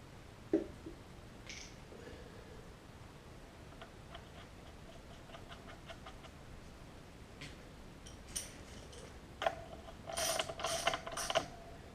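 A bolt coated with blue thread locker is tightened on a motocross bike. Faint, irregular ratchet ticks build to a denser burst of clicking near the end, close up and with no talk.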